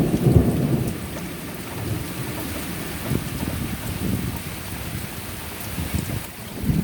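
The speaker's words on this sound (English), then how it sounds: "And now, look, it's raining, coming down pretty good." Heavy rain pours down on a Kansas garden, a steady hiss of drops striking the ground and leaves, with low rumbles of thunder rolling underneath, close and continuous with no talking.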